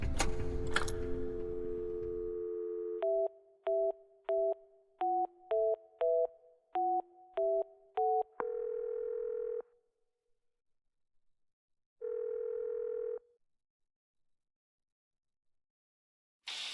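A payphone in a video game: a brief clatter as the receiver comes off the hook, then a run of short two-tone keypad beeps, a longer steady tone, a pause, and the steady tone again. The sounds are clear and stand alone.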